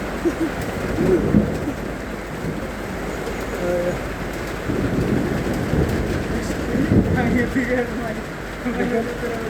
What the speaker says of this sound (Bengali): অনেকদিন পরে প্রচুর করে বৃষ্টি হইতেছে দেখেন